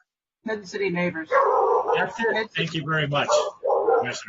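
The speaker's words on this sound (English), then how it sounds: "Excuse the barking in the background." A dog barks repeatedly in the background, overlapping a person who keeps talking up front during a city planning commission meeting.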